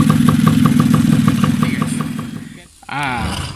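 A motorcycle engine with a worn bearing idles with a rough, ticking rattle under its hum, then dips briefly and revs back up.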